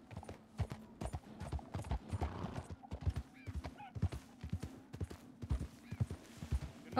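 Horse hooves in Red Dead Redemption 2 clip-clop steadily at a walking pace, close and fairly loud, with a faint hum underneath and no one speaking.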